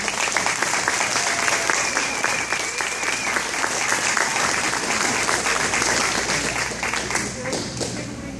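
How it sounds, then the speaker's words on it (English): Audience at a lecture on fracking in Medford, Oklahoma, breaking into sustained, dense applause that holds steady for several seconds before easing slightly at the end, close and full with no talk over it. "Let's give him a warm welcome."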